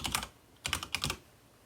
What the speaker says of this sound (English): Now this is where we type in